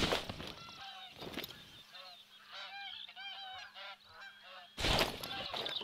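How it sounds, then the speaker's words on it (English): Waterfowl in the hunting game theHunter: Call of the Wild, a busy flock of honking, quacking calls at mid distance, bunched and overlapping in the middle, with louder noise at the start and end. "I can certainly hear all kinds of ducks over there."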